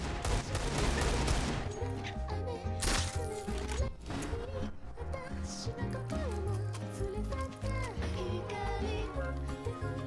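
Rapid automatic gunfire in the video game CS:GO crackles in dense, loud bursts over game music and effects for the whole stretch, with repeated sharp shots layered together.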